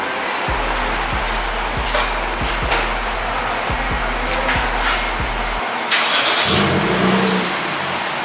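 A Lexus IS250 fitted with a Flowmaster and Vibrant resonator exhaust revs in a series of sharp, loud throttle blips, each rising and falling quickly, before settling into a steadier, rougher engine note near the end.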